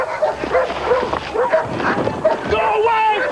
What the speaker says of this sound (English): is that guard dogs I can hear?